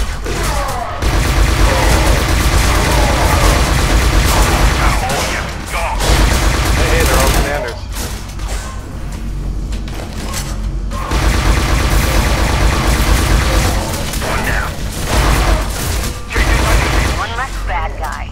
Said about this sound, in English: Taking a lot of shots.